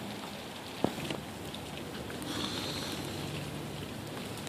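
Steady rain falls continuously on the ground and surfaces, a dense even hiss with one brief small tap, and no voices over it.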